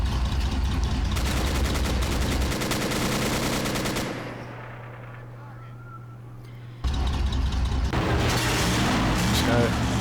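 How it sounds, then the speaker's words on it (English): High explosive rounds fired in the Men of War war game, loud bursts of rapid gunfire and booms that drop away for a few seconds mid-clip before the heavy firing returns, with a voice speaking over the battle. "Load up some high explosive rounds."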